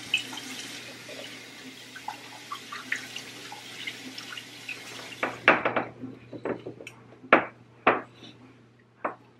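A decorative face ornament gets washed at a sink under a running tap, a faint steady water hiss followed by close clunks, drips and knocks as the object is handled and set down, with no talking.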